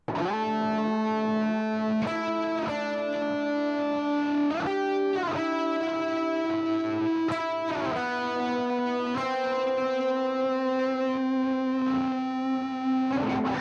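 A heavily distorted electric guitar through a stereo analog delay plays sustained chords and bends, long notes smeared by echoing repeats, loud and continuous with no talking.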